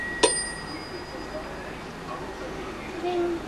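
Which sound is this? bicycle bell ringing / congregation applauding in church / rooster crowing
bicycle bell ringing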